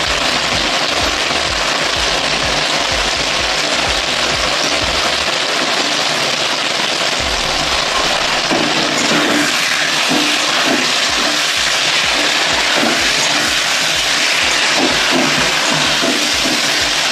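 Ginger and cumin paste frying in a pan with tomato, potato and green chilli gives a loud, continuous sizzle and hiss, close by, with occasional stirring knocks in the second half.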